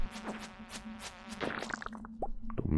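Insect-like buzzing from a mosquito swarm in the video game Stardew Valley, a thin whine wavering over a low steady hum, with a few soft pops and game blips near the end.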